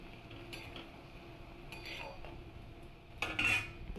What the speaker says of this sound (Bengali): এবার আমি পনিরগুলো সব দিয়ে দেবো।